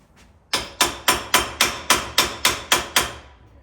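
A hammer taps a part down on a Suzuki LTZ 400 quad: nine loud, close metallic strikes at an even, quick rhythm, with no talking.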